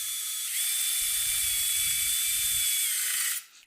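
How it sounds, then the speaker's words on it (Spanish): Power drill with a standard bit boring into wood: a steady high-pitched whine running for about three seconds with a low rhythmic churn underneath, then quickly winding down, close and loud with no talk. "voy a empezar primero a hacer la perforación con sistema de broca normal para poder hacer la perforación"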